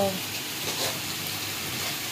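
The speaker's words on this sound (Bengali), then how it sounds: "এখানে পিওর ঘিতে ফ্রাইড রাইসের সবজি ভাজা হচ্ছে" Vegetables for fried rice frying in pure ghee in a home kitchen, a soft continuous sizzle with faint stirring, quiet, briefly under a voice at the start.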